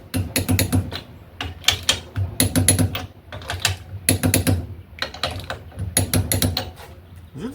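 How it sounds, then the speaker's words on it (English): A torque wrench tightening U-bolts on a 1968 Dodge Charger: repeated bursts of quick ratcheting clicks in rhythmic clusters, close and fairly loud, with pauses between strokes. "So I'm gonna go grab a torque wrench and torque these things on, I guess, 60 foot-pounds"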